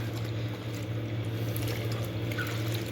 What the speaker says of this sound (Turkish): Şöyle yedek bezle yıkayayım onu.